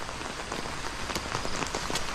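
Steady typhoon rain pattering on a surface nearby, a dense even hiss with scattered sharper drops, no voices.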